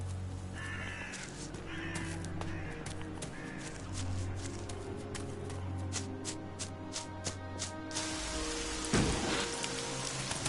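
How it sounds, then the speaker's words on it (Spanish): Steady video-game rain patters on a surface throughout, with crows cawing now and then and a louder splash of sound near the end. "de repente está lloviendo"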